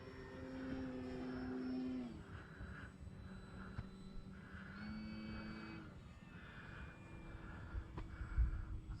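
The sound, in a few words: FMS Pitts 1400mm RC airplane flying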